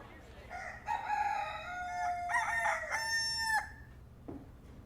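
A rooster crows once, loud and close, in a long drawn-out call with a rising and falling harmonic pattern, followed by a brief cluck, against a quiet background.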